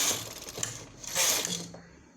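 A knitting machine runs stitches for a baby cap; the carriage makes a rattling, whirring mechanical sweep in two close passes, fairly loud and near, with no talk.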